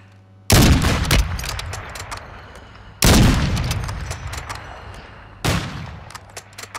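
Three heavy gunshots in Call of Duty Warzone 2, each a sharp loud crack at even spacing followed by a long decaying rumble, with no talking.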